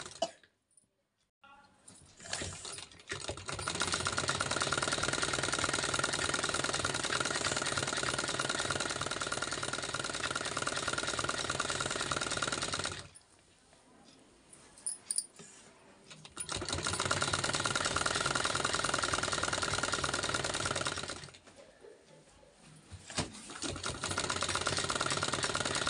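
An electric sewing machine stitches along the edge of a sleeve in long steady runs, with a mechanical whirr that pauses twice. Handling noises fill the pauses, and no one speaks.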